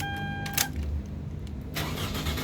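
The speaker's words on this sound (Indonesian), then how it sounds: "sekarang kita nyalakan mobil" A 2004 Toyota Camry 2.4 G automatic starts up: a short starter crank with a chime, then the engine catches and settles into a steady, close idle with no one talking.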